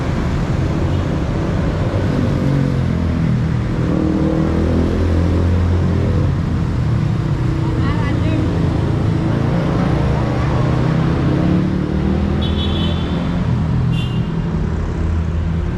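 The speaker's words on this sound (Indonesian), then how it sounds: "Di Medan banyak motor siang malam." Night traffic on a busy city street in Medan, Indonesia, full of motorbikes: a steady, loud drone of engines rolling past, with a few brief higher squeals near the end.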